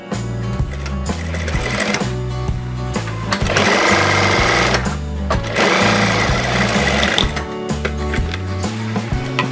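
A sewing machine runs in loud, steady bursts while stitching a double piping welt pocket, its rapid needle clatter starting and stopping several times with brief pauses, close and alone without talk.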